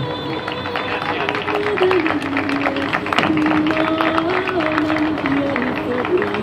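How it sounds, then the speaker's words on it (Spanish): Steady crowd applause at an award ceremony for a novice reining rider at an agricultural fair, sustained and moderately loud, with a voice over a loudspeaker and other voices partly audible beneath the clapping. "Fuerte el aplauso para el Facu."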